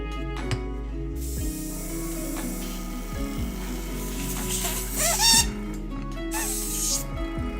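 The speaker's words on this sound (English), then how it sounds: "We're gonna spray some green on this for a little bit of highlight" An aerosol can sprays green paint onto a model bug, giving a steady, close hiss that runs throughout with a few brief breaks, while music plays faintly underneath.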